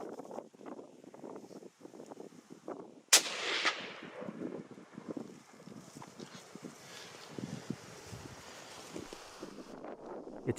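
A single rifle shot cracks out during a Coues deer hunt in Arizona, loud and abrupt above steady wind buffeting the microphone, then fades into continued gusty wind noise.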